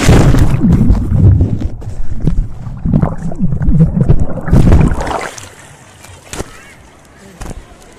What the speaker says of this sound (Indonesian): Ombaknya gede, boy.